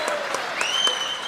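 Audience applause for a song on a Tamil singing show, a steady burst of clapping from a crowd, heard close with a faint lingering tone from the stage.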